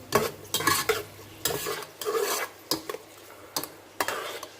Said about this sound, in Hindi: अब हम इस प्याज को ब्राउन करेंगे थोड़ा सा इसी ऑयल में